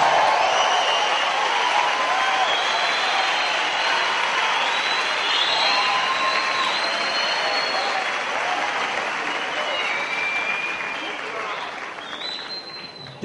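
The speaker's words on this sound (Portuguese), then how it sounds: "dá uma salva de palmas a Jesus" A church congregation applauds loudly and steadily, the dense clapping mixed with cheers and scattered voices calling out, holding strong for most of the stretch before easing slightly near the end.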